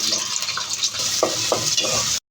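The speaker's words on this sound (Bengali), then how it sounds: "এই যে আমার পেঁয়াজ আর মরিচ হালকা লাল ভেজে নিচ্ছি" Onion and chili frying in oil in a pan, a steady close sizzle with a few stirring scrapes, no talk, ending abruptly.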